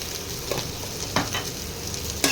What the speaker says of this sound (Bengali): এবারে আমি টমেটো, একটা বড় টমেটো দিয়ে দিলাম।